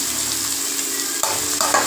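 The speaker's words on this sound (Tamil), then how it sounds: "வெங்காயம் நல்லா வதங்கிடுச்சுங்க" Steady frying sizzle of onions sautéing in a pan, with a few louder clatters of stirring near the end; no voices.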